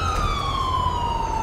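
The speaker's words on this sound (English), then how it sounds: "Alright, we can cut sirens." A police car siren in the LSPDFR mod for GTA, a loud steady wail sliding slowly downward in pitch over a constant engine rumble, close and continuous.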